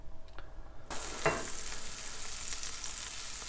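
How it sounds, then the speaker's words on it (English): Oil and a little butter sizzle in a frying pan, a quiet start suddenly bursting into a loud, steady, crackling hiss that continues close up, ready for frying fish. "in the pan there we have a little bit of oil, not a lot, and a bit of butter. And I want that sizzling hot."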